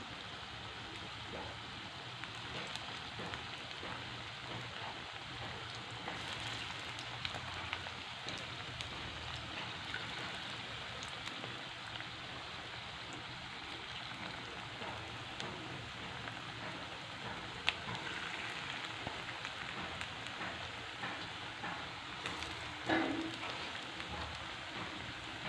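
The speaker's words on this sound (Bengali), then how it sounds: "একটু লো ফ্লেমে বড়াগুলোকে ভেজে নেব" Fritters (bora) frying in oil over a low flame make a soft, even, rain-like crackle and hiss that continues quietly throughout, with a few faint pops and a small clink near the end; no one speaks.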